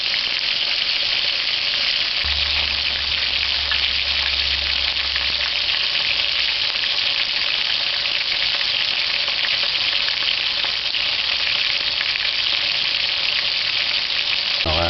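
Noodle-coated chicken pieces frying in hot oil, a loud, dense, unbroken crackling sizzle that holds steady throughout, close and with no voices.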